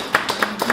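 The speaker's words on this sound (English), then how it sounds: "can we have a hand of applause for this book?" Audience clapping after a talk at a LASER Santa Fe event: a short, steady run of a few loud, close handclaps in quick succession.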